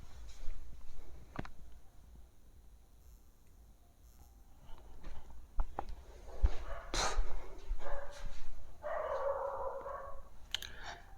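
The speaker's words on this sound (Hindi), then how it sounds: "मेरा कुत्ता भौंक रहा है।" A dog barks several times in short bursts, with yips and a whimper mixed in, sounding fairly near in an indoor room at home, the barks irregular and separated by quieter stretches.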